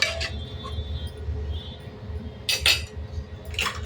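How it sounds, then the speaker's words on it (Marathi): Metal spoon stirring chickpeas inside a pressure cooker, a few sharp clinks and scrapes against the pot over quiet background hum. "आणि चमच्याने हलवून घ्यायचं आहे"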